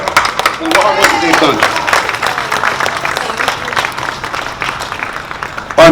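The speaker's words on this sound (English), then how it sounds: "Give them a nice applause for the hard work that" Applause from a crowd at a Puerto Rican flag-raising ceremony, clapping and cheering mixed with voices, strongest early and then tapering, ending with a sudden loud burst.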